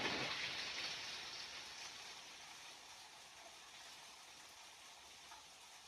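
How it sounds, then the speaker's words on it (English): Steady rain falls throughout, a soft, even hiss of drops on outdoor surfaces, heard alone with no talking and fairly faint overall. "Raining."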